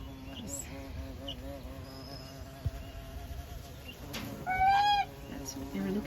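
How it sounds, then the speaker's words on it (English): A big bumblebee drones inside a chicken coop housing young Cinnamon Queen pullets, its buzz swelling close by for a second or so near the end over soft background chirps and rustling. "Oh, there's a big bee in here."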